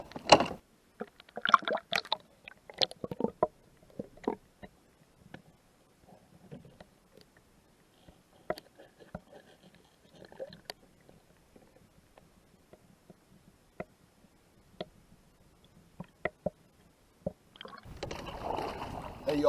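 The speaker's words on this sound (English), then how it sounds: "I'm paddling up on line number 9." A kayak is paddled along a riverbank while checking catfish trotlines and bank lines: sparse, close knocks and soft splashes of paddle strokes against the hull, quiet between strokes, ending in a brief burst of louder water noise.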